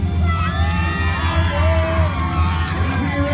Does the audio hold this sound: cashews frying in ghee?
no